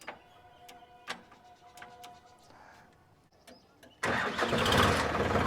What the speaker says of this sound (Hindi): चलिए इसको हम स्टार्ट करके आपको सुनाते हैं इसका आवाज़ कि ये आपको कैसी सुनाई देती है ट्रैक्टर।